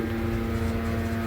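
A hotel elevator at the OMM Palace in Puri running, a close, steady low drone with a constant motor hum and no other sounds.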